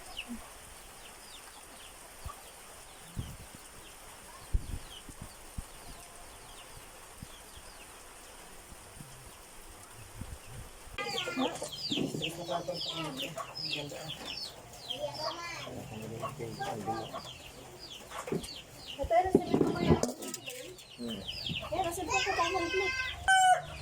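Chickens cluck and call on a rural farm in Mindoro during heavy rain. The clucking grows busier and closer in the second half, and a person speaks at times.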